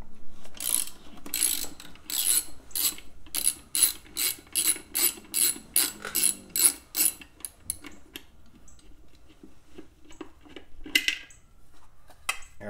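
A socket ratchet with a 5/8 socket Allen bit loosens the air cleaner on a Harley-Davidson motorcycle, giving a long series of sharp, rhythmic clicking bursts up close that slow and thin out toward the end, with no talking.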